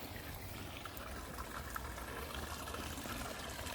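Small backyard waterfall trickling into a fish pond, a steady, continuous wash of falling water heard close by, even in level throughout with no voices.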